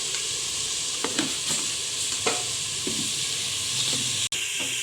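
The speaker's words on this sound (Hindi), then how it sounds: "अब हमने इसके अंदर साथ में ऑयल ऐड कर दिया। अब हम इसे अच्छे तरीके से भूनेंगे।" Ridge gourd and mutton frying in oil with red chilli and salt, a loud, steady sizzle punctuated by several spoon scrapes and clicks against the pan, one sharp knock near the end.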